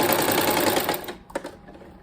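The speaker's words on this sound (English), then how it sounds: "I'm going to put the strip flat down on the batting and sew it straight down." A sewing machine stitching a fabric strip flat onto quilt batting, a fast rattling motor buzz up close that runs for about a second, then stops, leaving a faint click.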